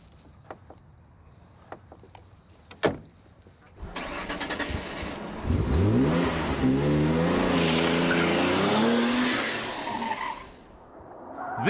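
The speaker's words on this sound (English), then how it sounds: "This is a Noble M12 GTO" A Noble M12 GTO sports car starts up after a few faint knocks, then its engine revs hard and climbs in pitch through several sweeping accelerations. Loud and close, it settles down before cutting off near the end.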